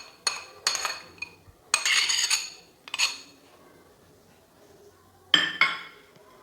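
Ceramic or glass bowl set down and handled during salad prep with grated carrot, giving several bright clinks and knocks in separate bursts, close and fairly loud, with quiet gaps between.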